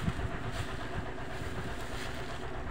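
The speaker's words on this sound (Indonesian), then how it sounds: "Ini di musim kemarau banyak dompeng-dompeng yang berbunyi" Dompeng engine water pumps run in the dry season to water rice fields, heard as a faint, steady mechanical drone with a low rumble and no clear breaks.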